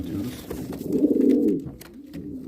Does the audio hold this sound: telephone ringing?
no